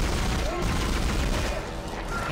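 Dense, continuous rapid-fire bursts from a pulse rifle in the Dead Space video game, loud and unbroken.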